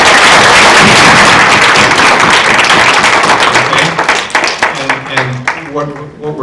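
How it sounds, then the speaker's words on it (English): Loud audience applause at a candidates forum in Ossining, dense clapping filling the hall and thinning out toward the end, with voices and a few scattered claps showing through as it fades. "Stay in your seats, but give them a round of applause."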